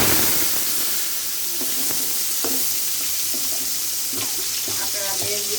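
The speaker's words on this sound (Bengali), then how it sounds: "এখন শাকটা ঢেলে দিব। এখন শাকটা দিয়ে দিচ্ছি" Red amaranth greens (lal shaak) are tipped into a hot pan, giving a steady wet sizzle with scattered short crackles and rustles throughout, close and moderately loud, with no talk.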